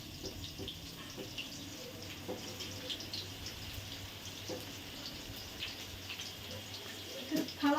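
Tap water runs over a pan being washed at a sink, a soft steady splashing and trickle with faint clinks, fairly quiet, with a brief louder knock near the end.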